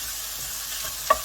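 Sausage meat breaks up as it is stirred in a hot pan, giving a close, steady sizzle with a short sharp scrape of the utensil near the end.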